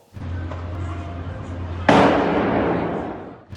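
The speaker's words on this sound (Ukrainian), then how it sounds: "підлітки в мобільному укритті підірвали небезпечну саморобну вибухівку" A homemade explosive detonates inside a mobile shelter: a sudden loud burst partway through, a sharp blast followed by a sustained crackling roar, with a low steady hum underneath beforehand.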